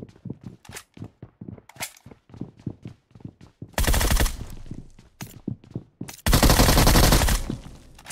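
Gunfire in the mobile battle royale game BGMI/PUBG: a run of sharp single shots followed by two long, loud bursts of automatic fire, close and dominant.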